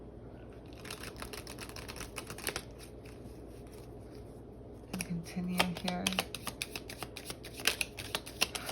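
Tarot cards riffle and flick in quick, clicking bursts as they are shuffled, close up and fairly quiet, with a short spoken phrase in the middle.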